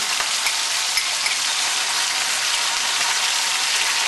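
Pulled pork sizzles steadily in a hot pan, a loud, even crackle of frying that carries on without pause and without any talking.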